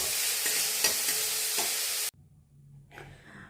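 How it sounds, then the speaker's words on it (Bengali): Onion and spring onion frying in a pan give a loud, steady sizzle with a few stirring scrapes for about two seconds, then it cuts away to a quiet, faint background. "দিয়ে এটা ভালো করে একটু ভেজে নিচ্ছি।"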